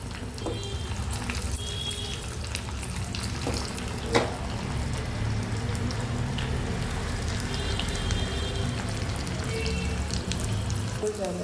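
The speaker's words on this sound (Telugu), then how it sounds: "తాలింపు వేగిపోయింది." Curry leaves crackle and sizzle in hot oil for an Andhra-style tempering, a steady dense hiss with a few sharper pops, close and continuous.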